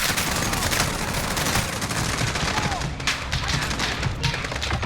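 Dense, continuous gunfire and explosions from a Call of Duty: Modern Warfare firefight, with overlapping bursts and booms filling the whole stretch at a steady, loud level.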